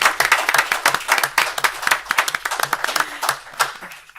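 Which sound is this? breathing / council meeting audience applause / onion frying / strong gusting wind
council meeting audience applause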